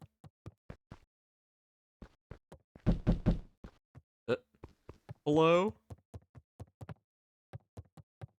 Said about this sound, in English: Who will be knocking upon my door?